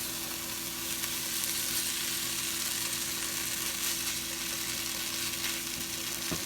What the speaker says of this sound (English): Now I like to add a little bit of this at a time and stir it so you won't get lumps